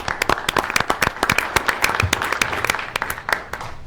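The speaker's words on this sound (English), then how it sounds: "we ought to give them applause for that" Dense applause and clapping from a gathered crowd honoring a police flex team, steady irregular claps through the whole stretch with a faint voice or two underneath.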